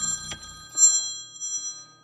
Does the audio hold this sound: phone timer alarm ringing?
yes